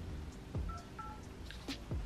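Several short telephone keypad tones beep in quick succession, faint against a low hum as a number is dialed.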